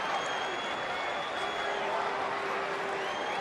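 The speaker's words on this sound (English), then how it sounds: "Crowd's starting to get a little antsy in the rain." Baseball stadium crowd at Fenway Park during a Tigers at Red Sox game in the rain, a dense, steady murmur with scattered claps and a faint rushing wash of rain beneath.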